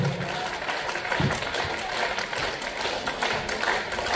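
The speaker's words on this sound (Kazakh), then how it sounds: "давайте Мөлдір ханымға тағы бір шапалақтап жіберші" An audience claps in sustained applause for several seconds after a speaker at a lecture on Japanese products, a dense patter of many hands fairly close, with a voice faintly under it.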